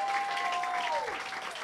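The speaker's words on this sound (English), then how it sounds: "So I want to give a nice round of applause for Larry." Steady applause from a crowd fills the clip, with a brief tonal whistle-like sound sliding down partway through.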